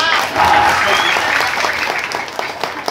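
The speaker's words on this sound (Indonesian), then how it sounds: "Tepuk tangan para wali." Audience applause during a comic Sundanese sermon, a loud, dense burst of clapping from a crowd that holds for a few seconds before easing slightly, with faint voices mixed in.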